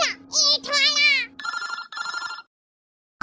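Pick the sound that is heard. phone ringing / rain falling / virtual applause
phone ringing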